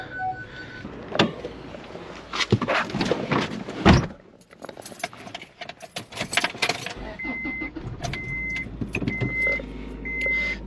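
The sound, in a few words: car being moved in a garage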